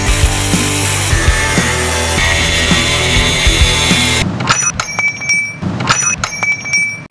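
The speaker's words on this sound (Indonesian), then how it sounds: "Kayaknya gue mau langsung digerinda aja deh" An angle grinder cuts into a Mitsubishi Lancer's wheel rim with a loud, steady high screech for about four seconds. It then cuts out, leaving lighter metallic clinks and ringing taps.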